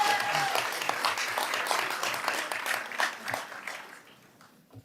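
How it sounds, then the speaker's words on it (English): An audience in city commission chambers at an inauguration ceremony applauds in a thick, steady wash of clapping that gradually thins and fades out toward the end. "Give yourselves a round of applause."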